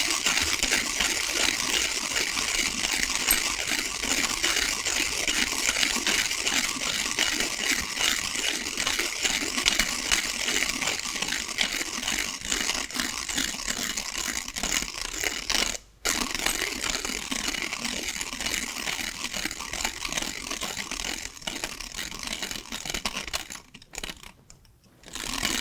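A Normcore V2 coffee grinder fitted with ghost burrs grinds beans in a steady, dense crunching whir that runs close and loud for most of the stretch, cutting out briefly midway and again near the end.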